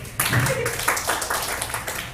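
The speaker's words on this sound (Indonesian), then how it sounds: "Tepuk tangan buat CGP" A school audience of teachers at a junior high applauds in a brief burst of clapping, fairly close, with uneven hand strikes that carry on steadily before tapering.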